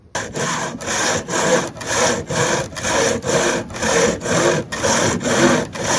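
A six-foot two-man crosscut saw cuts firewood for a wood stove at a winter bushcraft camp, with loud rhythmic rasping strokes repeating about every half second, close and steady with no voices.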